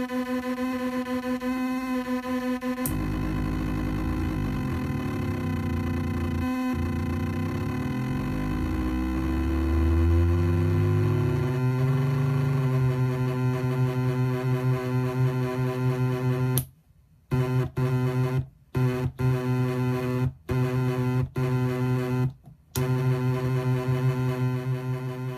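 A 256k HXBXI six-voice square wave oscillator box drones with stacked buzzing square tones, the pitches sliding and bending midway, then the sound cuts in and out in several sharp stutters near the end as the unstable circuit drops out.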